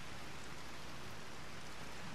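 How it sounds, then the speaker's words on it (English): Hard rain in the hunting game theHunter: Call of the Wild, a dense, even hiss of rainfall with no breaks, steady and fairly faint. "it's raining pretty hard"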